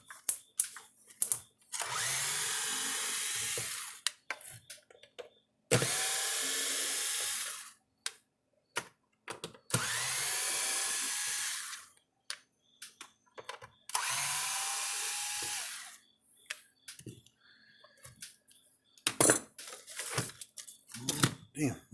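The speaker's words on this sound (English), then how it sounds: "I gotta find the right bit to open this stupid thing up." Four bursts of a power drill backing screws out of a 2013 Gallagher electric fencer casing, each whir lasting a few seconds with pauses between, followed by scattered tapping and handling noise; someone talks in the gaps.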